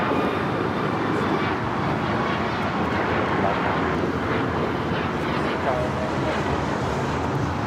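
A Cayman Airways Boeing 737 MAX 8 takes off at LAX, a steady, moderately distant jet roar with wind buffeting the microphone and a voice talking over it.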